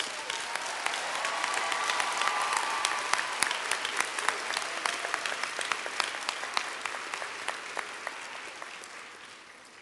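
A large commencement audience applauds the new doctors, a dense, sustained roar of clapping that swells early, holds steady, and slowly thins out toward the end.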